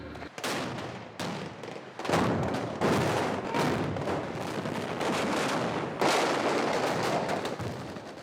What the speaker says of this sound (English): All the M16s are firing, the mortar rounds are going off, the RPGs are going at him